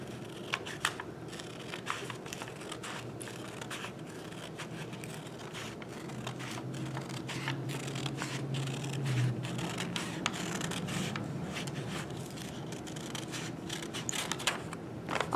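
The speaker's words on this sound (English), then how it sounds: "I'm just gonna cut out the square" Faint, steady scissors snipping and rubbing through paper while cutting out a folded square for a memory game craft, quiet and close with no talk.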